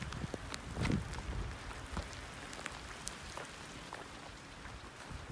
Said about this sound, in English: Straight up, like frozen rain falling on me.